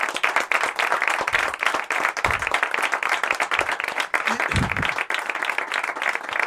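Lively clapping from a small audience, individual claps distinct and close, forming a brisk, uneven rhythm with a few louder thumps, continuing steadily for several seconds.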